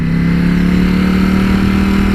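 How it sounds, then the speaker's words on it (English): Ducati Panigale V4S four-cylinder motorcycle engine, a smooth, steady mid-pitched drone held at constant revs, loud and close with no talk over it. "this is a 4-cylinder engine like no other I've ridden with"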